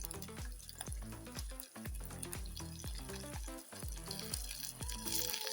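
Dania (coriander) stems go into a pan of frying onions for a yellow beans stew, giving a soft, continuous close sizzle with some crackle, fairly quiet and without speech.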